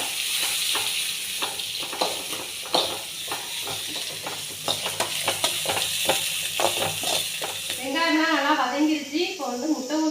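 Chopped onion fries with a steady sizzle as a spatula stirs it in a pan, making repeated quick scrapes close by, before a voice talks over the cooking near the end.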